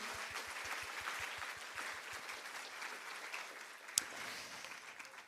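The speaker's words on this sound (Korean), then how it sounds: "We need another big round of applause to the Professor Che for the remarkable presentation." Audience at a keynote address at a botanic garden education congress applauding steadily, a dense patter of many hands clapping at moderate distance, with one sharp louder clap near the end.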